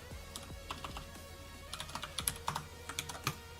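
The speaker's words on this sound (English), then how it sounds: "my keyboard is so loud that it occasionally procs the like sensor for the mouth movement" Loud computer keyboard typing comes close to the microphone, with scattered keystrokes at first and then a quicker, steadier run of clacks, with no one speaking.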